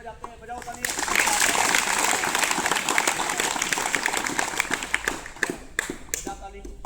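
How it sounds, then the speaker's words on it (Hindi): Schoolchildren at SL Inter College in Khanpur break into loud, dense clapping after a brief quieter moment, sustaining a thick crowd of hand claps for about six seconds before it tapers off. "अच्छा एक बार ताली बजा के दिखाना कैसे ताली बजाते हैं"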